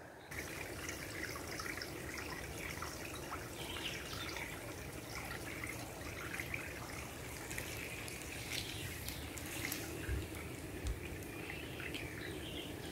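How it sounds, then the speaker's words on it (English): Spring-fed creek on a farm flowing steadily in a continuous watery trickle and babble, with faint bird calls in the background and no talking. "This is our little creek that's fed from a spring that's further up on the hill on our property."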